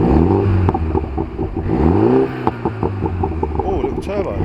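A Mini John Cooper Works F56 exhaust revs in a few rising and falling pulls, close and loud, with short crackles between them and people talking over it.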